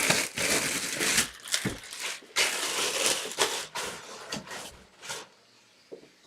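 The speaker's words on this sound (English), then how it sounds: "And we've got the plastic bag that it's going to slide out of." An item slides out of a crinkly plastic bag at a trading-card opening, with dense rustling, crinkling and crunching bursts close by, easing off toward the end.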